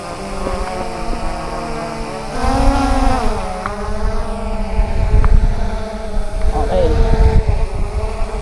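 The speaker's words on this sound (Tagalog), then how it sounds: "Malakas ang hangin." Strong outdoor wind buffets the microphone with low rumbling gusts, while a small camera drone's whining motors and excited voices are heard nearby.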